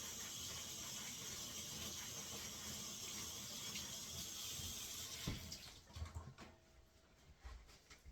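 A potato is scrubbed and rinsed under running water at a sink: a steady rushing stream with brushing and rubbing texture, which stops near the end, leaving a few soft handling clatters.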